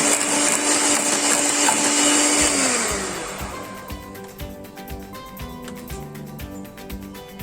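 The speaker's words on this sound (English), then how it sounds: "We should not overbeat this mixture because of the eggs in it" An electric mixer beats a creamy cake batter with eggs in it, a steady loud whir for about three seconds that then winds down and stops, leaving quieter clicks and kitchen noise.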